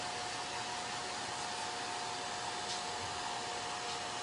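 A hair dryer blows continuously to dry wet chalk paste stars on a transfer, a steady even whoosh with a faint whine, no talking.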